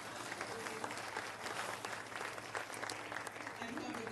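An audience at a conference panel session applauds the panelists with faint, distant, continuous clapping that holds steadily for the whole stretch.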